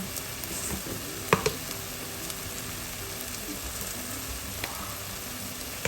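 A spice paste with red chilli powder, salt and a little sugar sizzles in a pan, a steady crackling fry with a couple of sharp clinks of a utensil, no voices.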